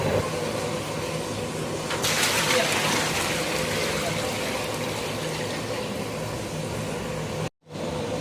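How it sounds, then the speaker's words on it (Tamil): Water pours steadily into a pot for wheat rava kichadi, a continuous splashing rush, fairly close, over a faint background hum. "தண்ணி இப்போ ஊற்றியாச்சு"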